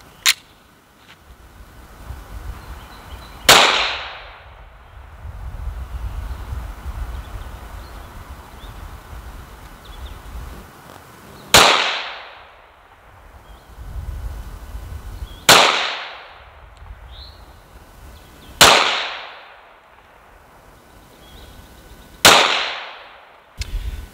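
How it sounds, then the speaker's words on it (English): Five sharp, loud shots from a Smith & Wesson M&P 5.7 pistol fitted with a Holosun 507K optic, fired one at a time at uneven intervals of a few seconds. Each crack is followed by a decaying echo, with a quiet outdoor background between shots. "So I'll take about 5 shots and then we'll go check out our grouping."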